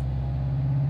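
In Euro Truck Simulator 2, while a Nissan Qashqai 4x4 SUV is driven, a car engine sounds from behind as a steady low droning rumble, even and close, with no other sounds over it.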